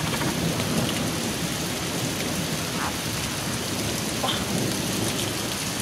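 A thunderstorm in Fairfax, Oklahoma: heavy, steady rain pours down in a dense continuous roar with low rumbles of thunder underneath, loud and unbroken throughout.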